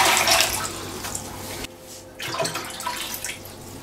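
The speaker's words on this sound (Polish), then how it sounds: "Do garnka wlewam 2 litry wody." Two litres of water pour steadily into a pot, briefly pausing mid-way before the stream resumes with splashing.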